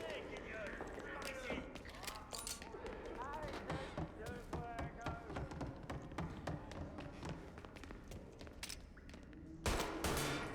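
Rapid gunfire crackles in the video game Mafia: Definitive Edition, with bursts of shots and sharp impacts repeating throughout, while a player talks over the action.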